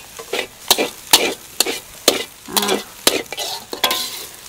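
A spatula scrapes and tosses fried rice in a hot wok over a big flame, rhythmic clanks over a steady sizzle, close and busy.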